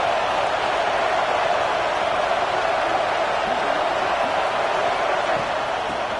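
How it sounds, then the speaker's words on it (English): Continuous roar of a large stadium crowd at an NCAA game, a broad, even wash of cheering and noise throughout. "This crowd bringing the energy and noise early."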